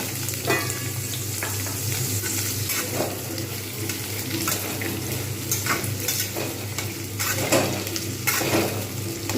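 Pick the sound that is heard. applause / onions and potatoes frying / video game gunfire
onions and potatoes frying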